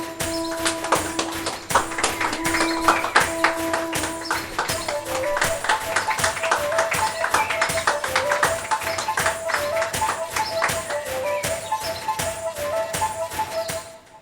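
An audience claps at a stage event in Kerala to welcome Renu Sudhi, giving rapid, steady applause under a melodic instrumental tune that plays throughout before ending abruptly.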